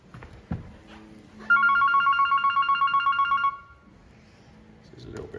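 A phone rings near a Harley-Davidson Softail Deluxe: a bright, rapidly pulsing electronic ringtone lasting about two seconds, loud and nearby, with faint talk and background noise before and after.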